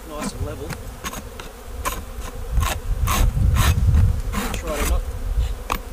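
Honeybees buzz steadily around a hive during winter closedown, a dense droning swarm close by, with clicks and knocks of a queen trap and equipment being handled.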